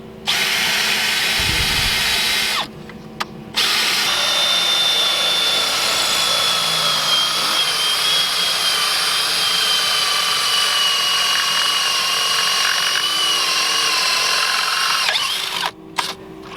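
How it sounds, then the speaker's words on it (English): A power drill with a dull bit whines steadily for a long stretch as it bores a hole while installing a submersible pump and water line, pausing briefly twice, loud and close. "So I drill a hole in here, put my piece from the inside"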